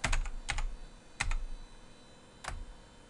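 Quiet, close typing on a computer keyboard as a new password goes in, a few quick clusters of key clicks separated by short pauses.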